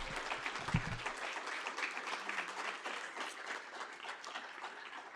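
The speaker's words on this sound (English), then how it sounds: "Let's give a great, huge round of applause for our graduates and for our nurses here." A crowd claps steadily for nursing graduates at a pinning ceremony, the applause dense and continuous but fairly distant and soft throughout.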